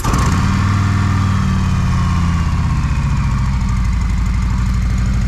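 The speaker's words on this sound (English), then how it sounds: "So that's how it sounded stock." A Harley-Davidson motorcycle with its stock exhaust runs steadily, a loud, close, deep lumpy engine throb with a rapid uneven pulse that holds constant throughout, with no talking.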